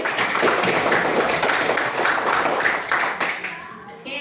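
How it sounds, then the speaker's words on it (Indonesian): A school class claps hands together in a steady, fairly loud burst of many small hands, which tapers off near the end. "Tepuk tangan dulu kita hadir"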